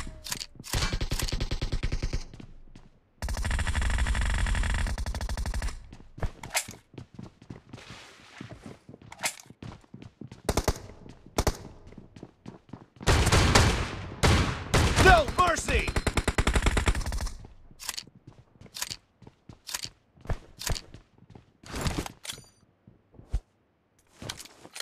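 Shotgun blasts from a video game ring out in bursts and single loud shots with gaps between, along with mechanical reloading clicks and footsteps.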